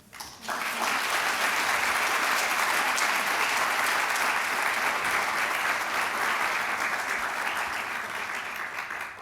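An audience at a Delta Omega honor society induction ceremony breaks into applause, dense and steady clapping that rises quickly and holds evenly throughout.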